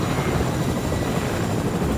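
A helicopter in the Fortnite video game flies with a loud, steady rotor-and-engine roar that fills the short clip without a break.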